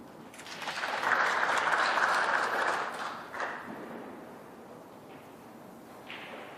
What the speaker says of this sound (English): That applause, by the way, was for Dave Gilbert on table 2, just next door.